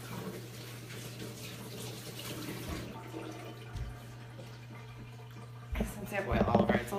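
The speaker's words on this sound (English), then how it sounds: "I'm gonna rinse my hands off." Hands oily from olive oil are rinsed under a running kitchen tap, a quiet steady splash of water that swells louder near the end over a constant low hum.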